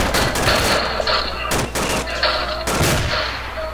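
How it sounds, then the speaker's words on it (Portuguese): Heavy gunfire with bursts of automatic shots and sharp explosive cracks in the military shooter game ARMA 2, played loud and close in repeated clusters. "Granada."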